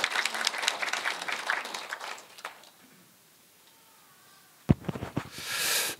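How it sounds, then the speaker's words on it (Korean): Audience applause at a panel discussion on multicultural family policy in Nowon district: brisk clapping for about two seconds that fades into near quiet, followed by a few scattered claps and a rising rustle at the end. "힘찬 박수 부탁드리겠습니다."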